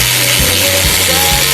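A ratchet socket wrench turns on a car suspension end link of a Mitsubishi Endeavor, giving a loud close rapid clicking of the pawl in a few quick strokes.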